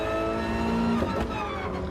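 A Porsche race car in a Gran Turismo exhibition race drones at steady high revs with a whining engine note and a brief shift in pitch near the middle.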